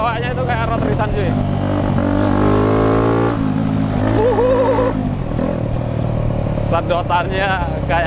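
Suzuki Satria 150cc motorcycle built in street cub style, engine revving hard with rising and falling pitch sweeps, close and loud, with a voice talking over it.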